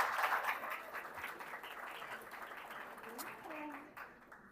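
Faint applause from a church congregation during a Bible lesson rises under ongoing voices and murmuring, holding at a low, steady level for a few seconds before trailing off.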